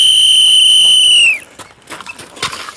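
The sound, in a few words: whistle signaling start of pistol drill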